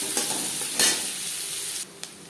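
Chopped onions dropped into hot oil with cumin seeds and bay leaf, frying with a loud continuous sizzle broken by brief stirring scrapes, with no talking.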